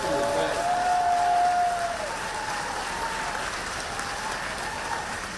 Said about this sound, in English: Let's give Secretary Leffler a big round of applause